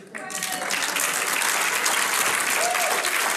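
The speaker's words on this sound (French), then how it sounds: "D'ailleurs, on peut les applaudir." A theater audience at a one-man comedy show breaks into loud, sustained applause that swells quickly and holds steady, with a brief voice at the start.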